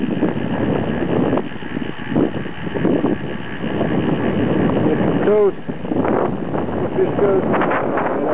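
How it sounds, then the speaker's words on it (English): Wind rushing past a cyclist riding through Death Valley, heard as a steady, loud low roar and buffeting on the microphone throughout, with a muffled voice briefly audible. "bit breezy in places"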